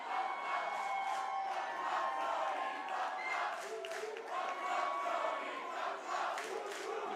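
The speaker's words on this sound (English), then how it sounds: "The crowd chanting that they want Tony to fuck him up" Wrestling crowd chanting in an arena at a Train of Terror Tour show, a steady dense wall of massed voices with rhythmic rises and cheers, loud and continuous throughout.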